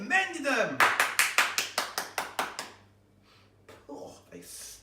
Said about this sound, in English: Give Balloon and Giraffe a very big clap.